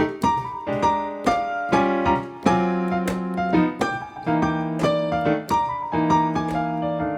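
Lively jazz piano using turns, quick ornamental figures around melody notes between crisp chord stabs, bright and flashy, played solo without talking.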